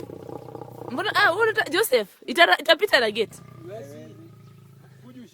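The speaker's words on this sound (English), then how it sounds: "That is the sound of a lion." A lion roars in two long, loud bursts, the calls rising and falling over a low rumble, then fading as a person speaks over the tail.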